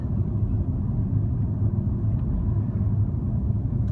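Cars on a road near Bryansk pass by as a steady, loud low rumble with continuous road noise and no distinct individual pass-bys.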